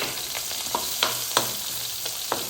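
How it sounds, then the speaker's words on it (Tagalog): Shallots frying in a pan for paksiw na bangus with pork belly, a loud continuous sizzle broken by a few sharp utensil clicks and taps. "Ilagay na natin ang mga shallot."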